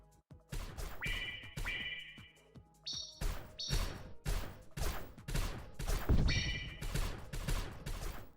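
Rapid shots in a roguelike game, sharp percussive impacts fired in quick succession with bright tonal chimes and whooshes between them, moderately loud with no talking.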